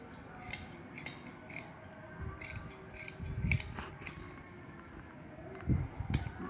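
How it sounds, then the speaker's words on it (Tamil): Scissors snip through chudidar pant fabric in a handful of short, crisp cuts spaced across the moment, close and fairly quiet, with faint clinks and soft handling noise between the strokes. "இதுக்கு நேராக வெட்டி எடுத்துக்கலாம், கட் பண்ணி எடுத்துக்கலாம்"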